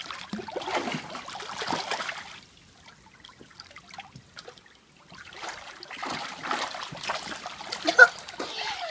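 Kids splash in a pool on a hot day, with bursts of water splashing and dribbling in two spells separated by a quieter gap, moderately close and fairly soft.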